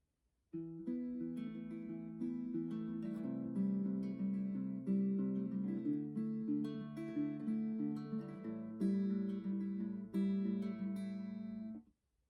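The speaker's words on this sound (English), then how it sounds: "if I were to pluck this chord progression using the second plucking pattern" An acoustic guitar plucks a chord progression in a fingerpicked pattern, a steady run of ringing picked notes and sustained chords for about eleven seconds, close and clear with no talking.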